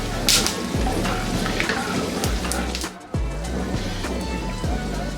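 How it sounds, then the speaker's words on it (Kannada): Peanuts fry in oil in a pan for North Karnataka style masala chitranna, giving a steady close sizzle with occasional stirring scrapes. "ಕಡಲೆ ಬೀಜ ಗೋಲ್ಡನ್ ಬ್ರೌನ್ ಬರೋ ತನಕ ಇದನ್ನು ಇದೇ ರೀತಿಯೇ ಎಣ್ಣೆ ಮೇಲೇ ಫ್ರೈ ಮಾಡ್ಕೋಬೇಕು."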